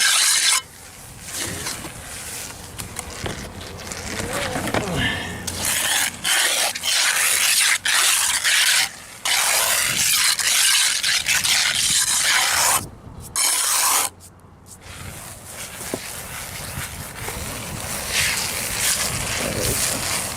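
Resurfacing compound being scraped and rubbed into a concrete sidewalk, a loud continuous rasping drag with brief pauses between long strokes, close to the microphone.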